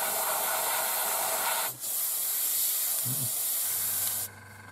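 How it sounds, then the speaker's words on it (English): A steady hiss of spray paint on the interior of a 1/72 scale Academy North American Mustang plastic model kit fills most of the clip, breaking once briefly before cutting off near the end, leaving a low hum. "That's spraying."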